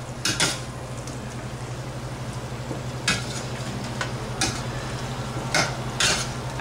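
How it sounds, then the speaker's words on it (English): Marinated shrimp, salted and spiced with turmeric, sautéing with a squash mixture in a pan: a steady low sizzle runs throughout, broken by several sharp spatula scrapes and clinks against the pan. "And keep sauteing it"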